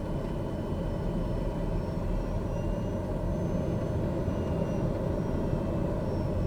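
A propeller aircraft engine warms up in Microsoft Flight Simulator 2020, droning steadily at a constant pitch, loud and close, with a faint whine above the rumble and no voices.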